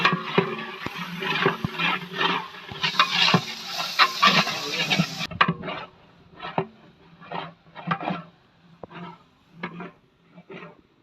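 Ladle scraping and stirring ginger garlic paste and spices in a big pot for Ambur biryani, repeated rhythmic scrapes with a soft sizzle underneath, close and fairly loud, no talking.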